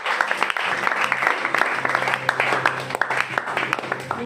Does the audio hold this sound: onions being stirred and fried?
no